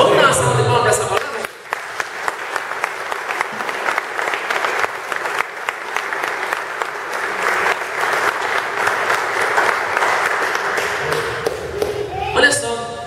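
Sustained applause from a church congregation, dense rapid clapping filling the room for about eleven seconds, with the tail of a voice just before and a brief voice returning as it dies away.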